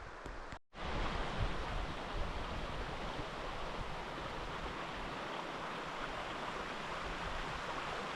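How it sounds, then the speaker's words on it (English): River flowing in grizzly territory on a solo backcountry camping trip, a steady, dense rush of water that continues without a break, close and fairly loud, with a brief handling dropout at the start. "Made it to the river."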